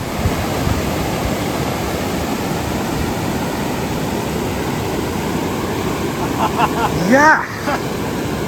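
An icy glacial meltwater river near Pin Bhaba Pass rushes loudly and steadily while being crossed, with a brief splash and a short voice near the end.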